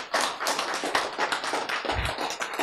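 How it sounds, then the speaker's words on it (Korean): A short burst of audience clapping during a lecture, a quick run of crisp, fairly close hand claps with an uneven rhythm, heard alone. "박수"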